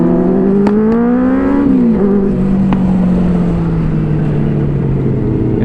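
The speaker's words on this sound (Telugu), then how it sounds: "ఫట్ ఫట్ ఫట్ ఫట్ అని ట్రాగల్ సౌండ్ అయితే హైలైట్ ఉంది." Kawasaki Z900 superbike running loud and close, its engine note rising then settling into a steady drone, with a couple of sharp crackling pops from the exhaust early on.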